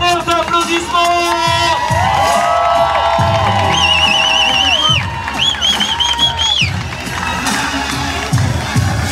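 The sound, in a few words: audience applause and cheering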